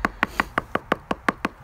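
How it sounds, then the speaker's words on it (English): Eight or nine evenly spaced light knocks as a sand casting pattern is tapped back and forth in green sand, crisp, close and alone. "a lot of times you can just gently knock it back and forth"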